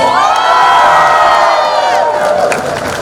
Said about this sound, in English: To all of you all, a big round of applause.